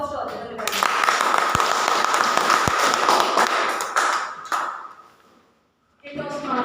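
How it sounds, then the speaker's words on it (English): Applause from an audience at a Toastmasters club meeting, several seconds of steady clapping with a couple of thuds that fades out into silence before a voice starts speaking. "A big round of applause to our general evaluator"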